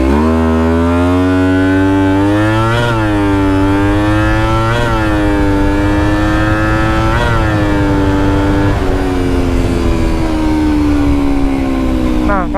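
Kawasaki Ninja 250 motorcycle engine revving hard through the gears without closing the throttle, drag-race style, each shift marked by a brief dip before the whining tone climbs again, loud and close, with no speech.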